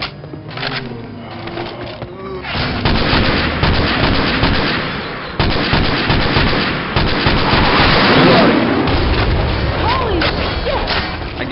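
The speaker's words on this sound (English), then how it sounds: "Shoot the armored zombies in the back." Rapid automatic gunfire rips through a zombie shooter game, dense bursts with thuds and crashes nearly continuous for the whole stretch, loud and close, with faint voices underneath.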